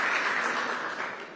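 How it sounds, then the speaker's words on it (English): Audience applause at the launch of the Jamaica Business Gateway, a dense, steady wash of many hands clapping that fades slightly toward the end. "Give her a round of applause, man."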